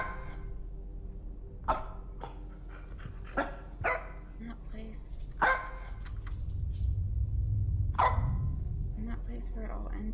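A dog barks in short, sharp bursts spread across the scene, each one fairly loud and close, over a steady low background rumble and some faint voices.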